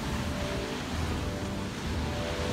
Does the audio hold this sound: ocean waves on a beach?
yes